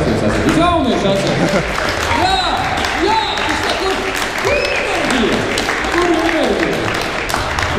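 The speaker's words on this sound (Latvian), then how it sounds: "es nevaru šitādu aplausu" A festival audience at a live stage show applauds loudly and steadily for the whole stretch, a dense wash of clapping with shouts and whistles rising through it.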